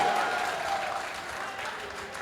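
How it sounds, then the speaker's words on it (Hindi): Strong, steady applause from an audience at an all-India mushaira in Kandhla fills the room, a dense wash of clapping that holds fairly evenly throughout. "आपको पसंद आया तो एक बार जोरदार तालियां आखिर तक बजा दीजिए"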